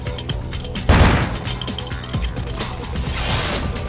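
Gunfire in Vampire The Masquerade Bloodlines, with a loud burst of shots and impacts near the one-second mark followed by scattered lighter hits and clanks over a low game background.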